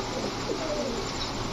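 A female Pakistani pigeon with a boot-shaped beak coos softly under a constant background hiss, one low murmuring call near the middle.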